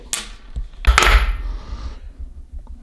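Metal parts clink and tap as a new intermediate shaft bearing kit and cap go into a VR6 engine, with a few sharp close knocks and a brief cluster of clatter before it settles quiet.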